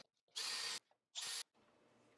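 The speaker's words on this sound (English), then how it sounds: "Then I'll drill my other pilot holes." Two short bursts of a power drill spinning up while drilling pilot holes for a bath and shower surround, each under half a second, separated by a pause, followed by a quieter hiss.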